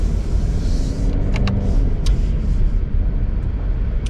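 2020 Subaru Impreza Sport Hatchback with a CVT accelerating in manual shift mode, a steady loud engine and road drone heard from inside the cabin, with a few faint clicks.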